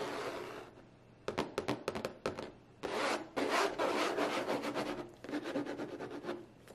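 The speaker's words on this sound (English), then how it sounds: "The sound of the box is very satisfying." A Coach handbag box, the packaging for a Coach Tabby 20, being opened and handled, giving close, dry rubbing and rasping scrapes of cardboard and paper in short bursts and longer stretches.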